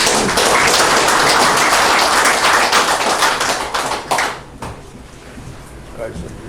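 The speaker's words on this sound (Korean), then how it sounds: "큰 박수로 맞아주십시오" Audience applause welcoming a lecturer at a policy forum in the National Assembly constitutional hall, loud dense clapping that fades out after about four seconds, leaving scattered claps and room noise.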